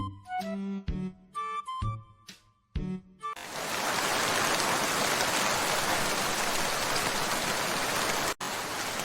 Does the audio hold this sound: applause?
no